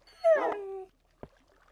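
A Minecraft dog gives one short, clear whimpering whine, followed by a brief faint tap and quiet.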